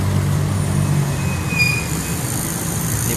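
Traffic rolling over a six-line rumble strip in front of the Palembang police headquarters, a loud steady low rumble and drone with faint high tonal whine, continuous and close.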